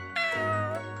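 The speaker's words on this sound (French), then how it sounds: "Dépêchez-vous, Père Noël, miaule le chat." A cat gives a single clear, fairly loud meow, rising then gently falling, heard alone.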